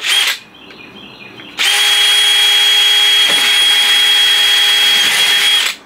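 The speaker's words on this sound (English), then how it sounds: "Just drilled the middle one." Power drill boring holes into a siphon tube for a chemical tank: a brief whir, a pause, then a long steady high-pitched drilling whine up close that cuts off at the end.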